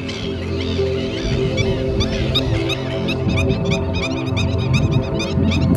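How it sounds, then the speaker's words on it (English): Domesticated geese and ducks honk and quack continuously near a village on the northern Black Sea coast, a dense overlapping chorus of many birds close by. "near them are wild domesticated goose and ducks"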